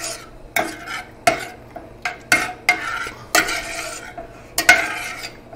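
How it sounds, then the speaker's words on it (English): Vegetables for a clam sauce are stirred in a hot pan over raised heat, producing a run of close, fairly loud scraping strokes at an irregular rhythm over a soft background sizzle. "Give it a stir."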